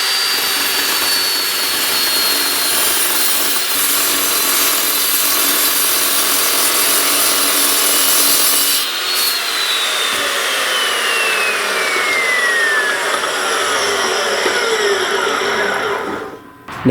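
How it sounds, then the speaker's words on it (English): An Evolution S355MCS metal chop saw with an aluminum-cutting blade slices through a thick aluminum piece, a loud, sustained high whine and grinding screech lasting well over fifteen seconds, with the motor pitch sliding down as it cuts before winding off. "I've got the blade on for cutting aluminum, and I've got a nice thick piece, and I'll just show you how that cuts through there"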